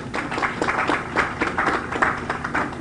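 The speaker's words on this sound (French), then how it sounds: "je vous demande d'applaudir s'il vous plaît" Audience applause at a ceremony, a dense steady patter of many hands clapping at moderate loudness, with no voices standing out.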